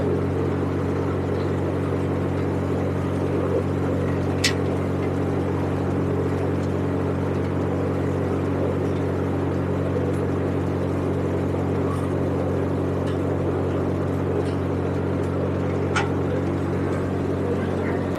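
A Param double-rotor thresher from Visnagar, 2024 model, driven by a tractor while threshing moth beans, running as a loud, steady mechanical drone with a constant low hum and a few faint clicks, no voices.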